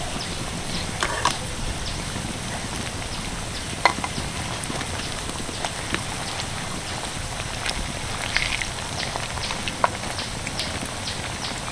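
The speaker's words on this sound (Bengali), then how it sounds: "দেখুন সবগুলো কিন্তু উল্টে পাল্টে বেশ লাল লাল করে ভেজে নিয়েছি" Soft, even sizzling of wheat-flour snacks with sesame seeds and dried chili frying in a pan, a patter of small crackles with a few louder pops, moderately quiet and without speech.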